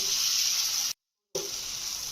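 Dosa batter for a crispy ghee dosa sizzles on a hot griddle with a steady, close hiss that is briefly cut off partway through and then resumes.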